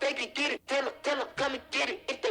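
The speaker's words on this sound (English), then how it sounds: "I just searched for vocal loop." A sung vocal loop sample plays inside the Soundtrap online studio as a series of short, clear syllables in a choppy rhythm. It is close and fairly quiet, with brief gaps between phrases.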